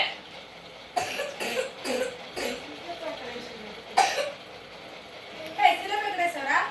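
A person coughs several times in short separate bursts, with speech in between and a little throat clearing.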